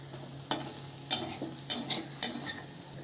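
Besan bhurji, a gram-flour scramble, stirred and sautéed in a pan over a medium flame, with about five sharp spatula scrapes against the pan over a soft, steady sizzle and no talking.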